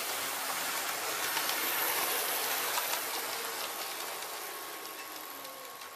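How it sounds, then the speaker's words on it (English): A train pulls into platform 1 of a station, heard as a steady broadband rumble and hiss of wheels and brakes that swells and then slowly fades as it comes to a stop, with no talk. "this train that's just pulled in"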